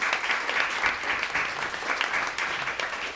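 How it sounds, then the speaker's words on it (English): A concert audience claps warmly in a short, lively burst, the applause dense and close with a slightly uneven, rippling rhythm. "big round of applause for Ollie and his team"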